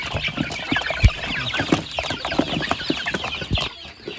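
Nearly two hundred hungry free-range farm chickens cluck at feeding time in a dense, close chorus of short, overlapping clucks and squawks.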